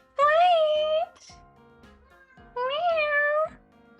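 A cat gives two clear, drawn-out meows about two seconds apart, each one loud, close and bright against a quiet room.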